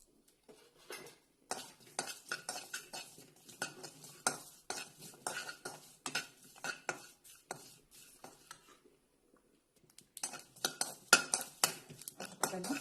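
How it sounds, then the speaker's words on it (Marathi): Sesame seeds, coconut and ginger dry-roasted in a hot kadhai, a spatula scraping and clacking against the metal in rapid strokes, with a brief pause before the stirring resumes. "कढई गरम झाली आहे, त्याच्यामध्ये आपण हे तीळ, खोबरं आणि हे अद्रक गरम करून घेऊया"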